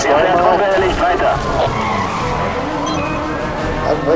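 Cars skid and brake hard in the Need for Speed Hot Pursuit racing game, with a continuous loud tire squeal and engine roar under someone talking throughout.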